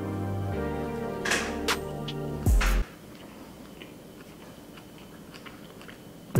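Someone chews a sweet dessert-style hamburger close to the mic, with soft wet chewing and a few crisp crunchy bites early on, then quieter steady mastication.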